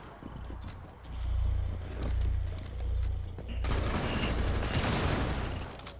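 Gunfire in Rainbow Six Siege, a rolling stream of rapid shots over low rumbling booms that swells and surges, turning into a loud dense burst of continuous fire in the second half.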